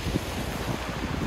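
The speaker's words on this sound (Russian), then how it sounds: "Море слегка волнуется. Дует легкий бриз." Black Sea surf at Sochi on an overcast, cold December day washes in a soft, steady wash, with light breeze noise blending into the continuous low roar.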